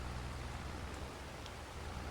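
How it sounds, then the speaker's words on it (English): Steady in-game rain falls in Farming Simulator 22, a soft continuous hiss of drops with no voices and an even level throughout. "it's raining right now"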